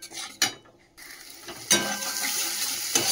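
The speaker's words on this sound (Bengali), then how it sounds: "এবার মশলাটা কষিয়ে নিই" Spice masala frying in a pan: a clatter and brief pause, then a sustained hissing sizzle with a few utensil knocks against the pan.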